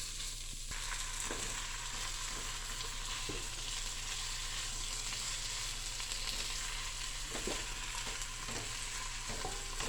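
Lamb shanks sizzle steadily in a pan with sautéed onion and garlic, a continuous close frying hiss with occasional stirring scrapes, no voices.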